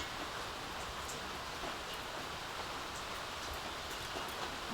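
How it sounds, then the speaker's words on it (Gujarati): Soft, steady rainfall hissing evenly in the background, faint and unbroken, with no voices. "પણ વરસાદ આવે છે"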